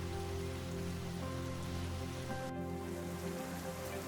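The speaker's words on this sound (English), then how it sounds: "During the rainy season, thunderstorms roll across the plains" Steady rain from a thunderstorm on the African plains falls as a dense, even hiss of drops on the ground, close and continuous with no voices.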